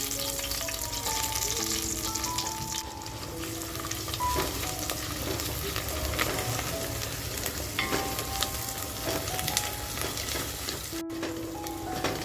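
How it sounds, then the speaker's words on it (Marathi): Freshly ground masala fries in hot oil for a spicy mutton curry, with a steady, close sizzle and occasional stirring, faint tonal sounds in the background and no talking. "जो आपण मसाला वाटून घेतला आहे तो मसाला अगोदर तेलामध्ये असा छान फ्राय करून घेऊया"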